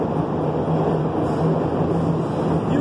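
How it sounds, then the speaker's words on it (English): A train passes close by in an urban neighborhood as a steady, dense rumble with a faint hum running through it, loud and continuous and heard alone without voices. "You hear the train?"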